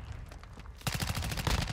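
Rapid automatic gunfire erupts in the Modern Warfare 2 shooter game, a close, dense burst of shots following a quieter moment with scattered distant pops.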